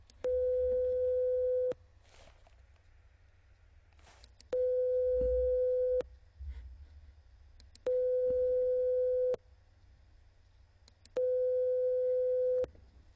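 Four identical steady electronic test tones, one hertz apart, sound in turn, each lasting under two seconds and separated by pauses filled with faint background noise.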